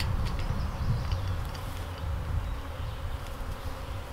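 Guard bees buzzing around an opened hive, a dense continuous drone close and loud, with individual bees whining past now and then.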